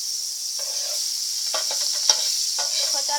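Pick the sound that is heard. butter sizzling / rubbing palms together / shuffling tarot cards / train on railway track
butter sizzling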